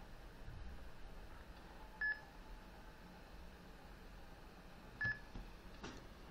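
Short electronic beeps from the hacking video game Hacknet sound twice, a few seconds apart, over a faint low hum with no talking.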